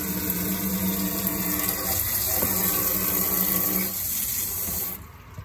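A garden hose runs water steadily over the cowl of a Chevrolet Express or GMC Savana van, a continuous close splashing wash that cuts off near the end, leaving a quieter hiss.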